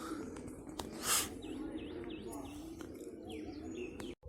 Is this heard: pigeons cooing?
yes